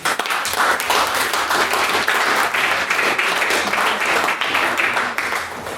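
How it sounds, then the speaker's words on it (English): An audience at a school debating event breaks into dense, sustained applause for the judges, many hands clapping together in a loud, continuous wash with no gaps. "we all give our judges a round of applause"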